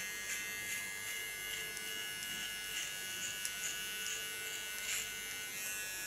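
An electric hair clipper buzzes steadily at close range during a haircut, a constant high whine with no pauses and no talk.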